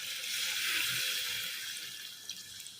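Water pours into a pan while curry cooks, a soft steady hiss of liquid that fades slightly toward the end, with a few faint splashes and no voices.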